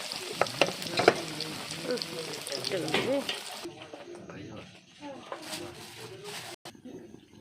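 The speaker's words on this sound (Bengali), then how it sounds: "এই যে এত বড় লঙ্কাটা ভেজে তোমাদের দেখাচ্ছি" Large chili fritters frying in a pan of oil at a roadside snack stall, giving a busy crackling sizzle that is loud at first and then fades lower, with a person talking over it much of the time.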